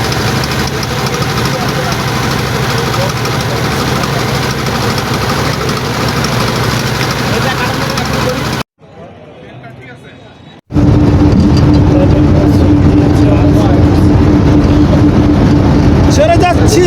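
A boat engine idles and chugs steadily on Nikli Haor in Kishoreganj as the boat prepares to depart. The engine cuts out briefly, then returns louder, with people talking over it throughout.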